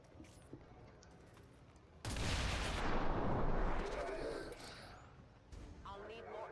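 A burst of gunfire from a soldier in XCOM 2: War of the Chosen, a loud dense barrage after a quiet stretch, lasting a few seconds before fading, with a voice talking faintly under it.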